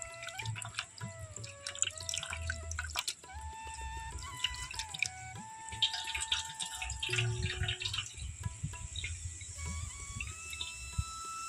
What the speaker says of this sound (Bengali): এখানে আবার জল দিয়ে ছানাটাকে ধুয়ে নেব